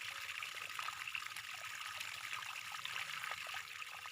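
Water trickles steadily into a container of plums and honey for plum infused water, a soft continuous pour that stays even and fairly quiet throughout.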